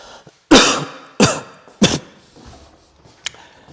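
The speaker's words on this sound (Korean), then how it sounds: "누가 기침 소리를 내었는가 말이야?" Three sharp, loud coughs or throat clearings come in quick succession, followed by a fainter short cough near the end, against a quiet room.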